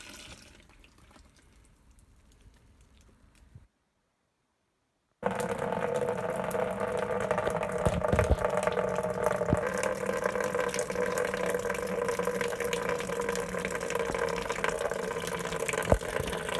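Wort runs steadily through the grain bed during a home-brew lautering, a continuous close trickle and pour of liquid after a brief quiet gap, with no talk over it.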